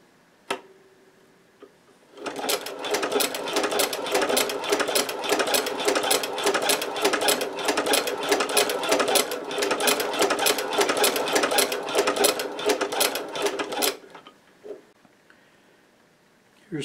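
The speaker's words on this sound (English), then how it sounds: "Here's the first test piece, and it didn't miss a stitch." A cobbler's sewing machine stitching a leather test piece with a standard needle runs steadily for about twelve seconds, a fast, even mechanical chatter close by, starting and stopping abruptly with no talk over it.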